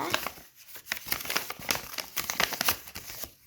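A Capricorn-themed package being opened by hand, heard as close, irregular plastic crinkling and rustling in short bursts, with no talking.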